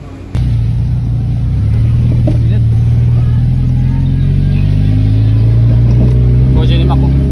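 Someone's car engine starts with a sudden kick, then settles into a loud, steady revving drone with a rising pitch. The engine sounds close by, and voices talk underneath it.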